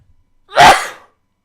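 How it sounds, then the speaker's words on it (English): A single sharp human sneeze, close and loud, bursting out of near silence and fading quickly. "wait, oh my god, I have a sneeze, hang on"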